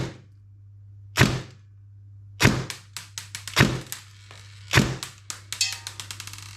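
Airsoft gun on a 7.4 battery firing 0.28 g BBs in semi-auto through a chronograph: sharp separate cracks, a few spaced single shots and then a quicker run of shots, over a steady low hum.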